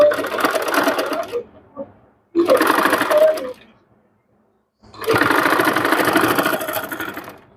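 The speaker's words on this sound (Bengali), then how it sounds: "যেভাবে আমরা নর্মাল হাতা সেলাই করি ঠিক এরকমভাবে আমরা সেলাই করে নেবো" Sewing machine stitching a puff sleeve seam on a garment, running in three loud bursts with short pauses between, the motor whirring steadily while the needle rattles during each run.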